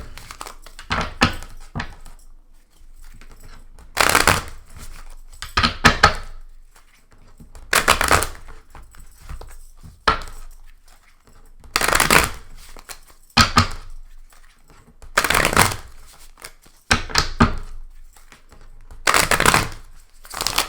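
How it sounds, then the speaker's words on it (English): Crisp bursts of tarot cards riffling and fluttering, repeated in short bouts with brief pauses between, close and fairly loud. "I'd like to take a moment just to fluff the deck a little bit"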